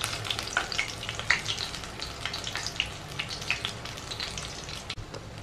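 Snail (gugli) stick kebabs fry in hot oil while being turned slowly, giving a continuous close sizzle dotted with small crackles and pops.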